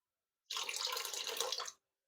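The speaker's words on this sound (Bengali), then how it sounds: "জল দিতেই থাকো, জল দিতেই থাকো" A water tap poured into a mixture being thinned, a steady close rush of running water for just over a second, starting and stopping abruptly, alone with no voices.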